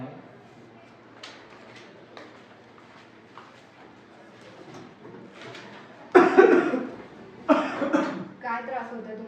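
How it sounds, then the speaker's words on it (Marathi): A person coughing in a medical consultation, a few soft coughs and throat sounds amid quiet talk, then louder harsh coughing bursts near the end. "खोकला येतोय आणि घशात पण टोचल्यासारखं वाटतं थोडंफार"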